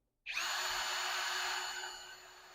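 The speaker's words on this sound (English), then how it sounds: "And I'm doing that with the drill, which is really not the best way to do it." An electric drill bores a hole in the bodywork of a Maserati build, starting abruptly with a steady high whine that holds for about two seconds, then eases slightly as the bit cuts through.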